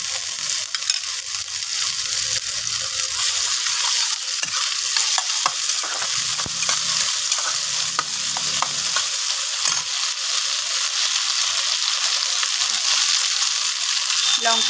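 Ginger and chili paste masala stir-fried for Kashmiri aloo dum in a Bengali kitchen, a constant sizzle with scraping spatula strokes against the pan and occasional clinks, while a person talks over the cooking.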